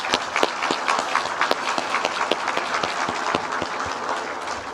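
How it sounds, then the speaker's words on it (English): Audience at a summer commencement ceremony breaking into sustained applause, many hands clapping densely and steadily at close range with a few sharper individual claps standing out. "Please, can we give them one more well-deserved round of applause?"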